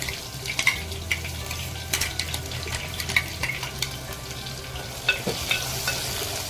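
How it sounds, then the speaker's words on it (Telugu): Masala paste with onions and green chillies frying in a clay pot for country chicken, a steady close sizzle with scattered scraping stirs and clinks, no talk. "ఇదంతా పచ్చి వాసన పోయే వరకు వేపుకోవాలి."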